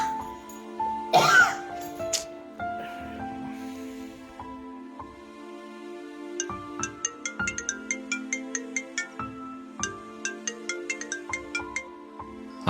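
A phone ringtone plays a repeating electronic melody in regular bursts, loud and close, after a brief cough and throat clearing at the start.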